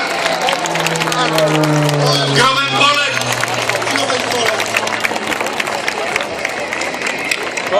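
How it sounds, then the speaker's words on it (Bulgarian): Applause and crowd noise from spectators at an air show in Sofia, a steady bed of clapping under a loud announcer's voice speaking over a PA, with aircraft-like tonal sweeps. "Аплодисменти, дами и господа!"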